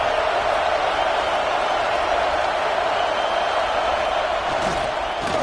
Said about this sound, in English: These fans raising the volume on 2nd and goal.